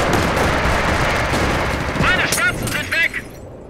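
Enemy gunfire in a Company of Heroes Stalingrad mod battle, loud rattling bursts and booms under a dense wash of combat noise, with a radio-style voice speaking over the shooting.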